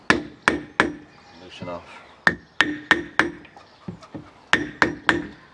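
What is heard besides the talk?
hammering a block of wood or metal to loosen a fuel stand pipe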